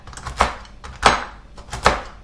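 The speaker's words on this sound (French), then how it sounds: "je vais concasser mes noix, tout simplement, avec un couteau qui coupe bien" A sharp knife chops walnuts on a board in three distinct, evenly spaced thuds, close and crisp, with no talk.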